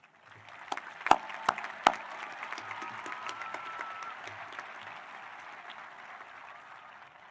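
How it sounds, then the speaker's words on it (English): An audience applauds steadily at a high school commencement ceremony, a dense wash of clapping with a few sharp louder claps near the start, gradually thinning toward the end. "please join me in a round of applause for their pending sacrifices to our"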